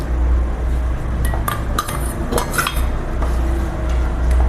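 Metal spoon clinking and scraping against a pot of semiya payasam as roasted dry fruits are mixed in, with a steady low hum behind the irregular clatter.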